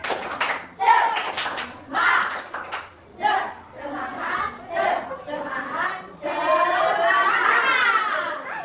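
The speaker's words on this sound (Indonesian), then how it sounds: "Tepuk semangat" Schoolchildren in a classroom perform a rhythmic spirit clap, with bursts of hand claps falling in a patterned beat while their voices chant loudly along, closing in a sustained shout.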